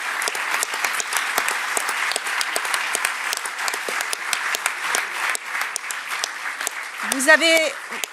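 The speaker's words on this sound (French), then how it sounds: "Je voudrais qu'on applaudisse très fort, vraiment, tous ces orateurs et oratrices." Strong, sustained applause fills a hall in the French Senate as an audience honours speakers at a commemorative text reading. Thick clapping continues throughout, and a single voice rises briefly near the end.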